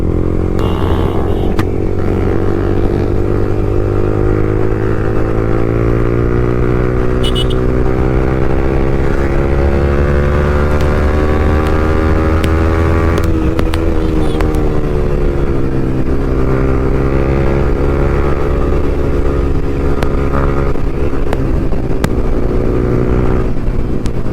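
Superbike ridden through Kolkata in misty weather, its engine droning loud and continuous at close range with rising and falling pitch as it accelerates and eases off, plus steady wind rush.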